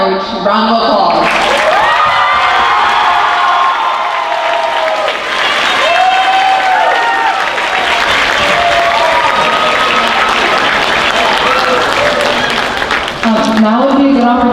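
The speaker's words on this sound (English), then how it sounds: "Now please give the music department seniors a very large round of applause." A large audience applauds the music department seniors at a high school spring concert, loud, dense clapping mixed with cheers and whistles filling the hall without a break, then a voice speaks briefly at the end.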